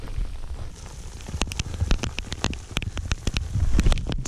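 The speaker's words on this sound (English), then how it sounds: "Definitely a little bit more hail here going on." Rain mixed with hail pattering down on a running trail near Flagstaff, with sharp scattered ticks of hailstones striking over a steady hiss of rain and light wind noise on the microphone.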